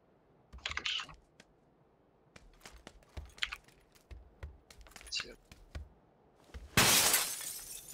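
Glass breaking in the PUBG battle-royale game during an Erangel match, a loud burst of shattering near the end, preceded by scattered keyboard clicks and brief talk.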